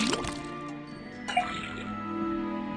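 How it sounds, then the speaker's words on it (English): Water drips from a tapped faucet in the Detective Grimoire video game, a soft liquid trickle and dripping mixed with game music, fairly quiet throughout. "First thing, we then tap the faucet."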